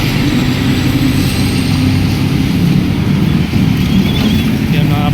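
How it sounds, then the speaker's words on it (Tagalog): A steady, loud engine roar from a Navy helicopter flying over Manila Bay, a continuous low rumble with a droning hum that persists throughout, with no clear talk above it. "may helicopter"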